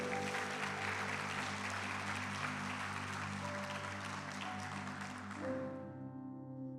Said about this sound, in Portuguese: Aplauda Jesus, igreja.